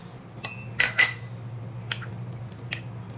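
A spoon clinks against a saucer while overnight oats are mixed, giving a few light, close taps and scrapes over a steady low hum.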